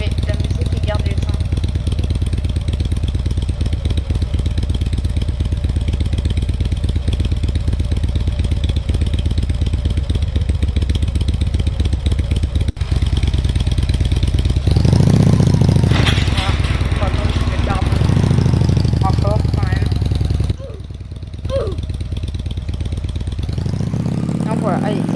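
Motorcycle engine in the Roblox game Bloxburg, a steady droning idle running continuously for most of the clip, with a few brief revving swells near the end and a voice talking over parts of it.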